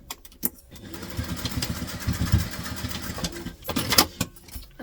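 Sewing machine stitching across a travel tote, a close, quick mechanical whir lasting a few seconds, with rustling and handling of fabric before and after.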